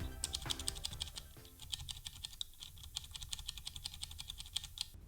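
Rapid typing on a Durgod Fusion mechanical keyboard with scratchy switches, a steady stream of close, crisp key clicks and clacks with no talking.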